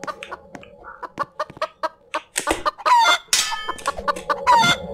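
A chicken clucking in a Roblox obby game, a run of short sharp clucks followed by louder squawking crow-like calls, all close and prominent with no talk over it.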